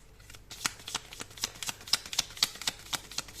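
Tarot cards shuffled by hand in a quick, steady run of about a dozen crisp riffling flicks, close and clear with no voices.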